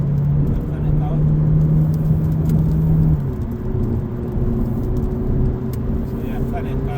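A 2005 VW Golf 2.0 TDI GT with DSG gearbox, 168k miles, accelerating onto a dual carriageway: a steady diesel engine drone with a rising tone that shifts partway through, loud and continuous from inside the car.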